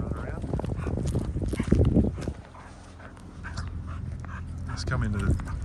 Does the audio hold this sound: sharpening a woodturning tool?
no